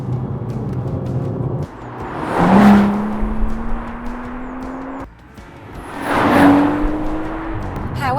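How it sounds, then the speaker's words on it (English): A BMW M135i with a turbocharged six-cylinder engine pulls hard through the gears, its loud engine note rising steadily in pitch, dropping at a shift, then climbing again through a second strong acceleration. "With its powerful turbocharged 6-cylinder engine, this is a genuine performance car with great handling and an engine note that really makes you tingle all over."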